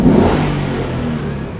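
The V8 of a Ford Mustang GT rumbles in a tunnel with a deep, loud, throaty drone. It surges briefly at the start and then holds steady with a resonant echo, with no voices over it.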